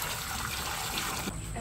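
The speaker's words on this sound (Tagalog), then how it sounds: "at lalagyan lang po natin ng tubig" Water poured into a cooking pot set over a lit stove, a steady broadband splash running the full length at moderate level, faint and continuous with no voices.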